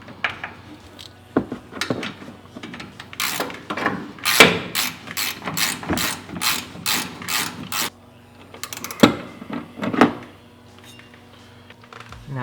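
A hand ratchet tightens a nut while front lowering springs go onto a 1992 Ford Ranger with a 302 V8, giving close, loud bursts of rapid clicking that repeat in several runs with short pauses between them.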